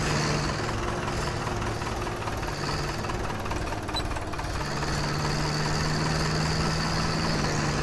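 Tractor engine idling in a farming video game, a loud steady diesel chugging with a low hum and constant vibration that continues without a break.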